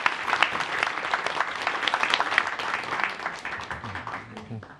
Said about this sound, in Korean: 박수로 좀 모시겠습니다.